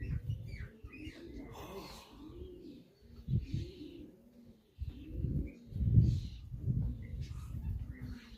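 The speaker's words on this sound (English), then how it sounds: "So there is a few pigeons over there" Racing pigeons cooing nearby in soft, rolling low-pitched phrases that overlap and repeat, with faint chirps and rustling around a loft.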